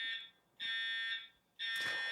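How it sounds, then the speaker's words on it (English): A fire alarm sounds in loud electronic bursts, roughly three long tones with short gaps between them, close and steady with no talking. "we're in a fire alarm situation."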